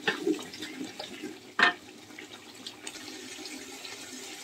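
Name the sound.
washing dried plums (alu bokhara) under running water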